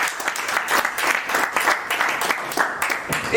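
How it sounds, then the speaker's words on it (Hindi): An audience at a company awards ceremony claps in dense, steady applause, loud and close for the whole stretch, with no voices on top. "जोरदार तालियां राम बाबू जी के लिए।"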